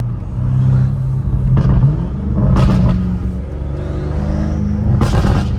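A BMW M5 F90 Competition with full titanium exhaust and downpipes rumbles steadily while driving, with a low throaty exhaust note and a few brief revving surges over several seconds.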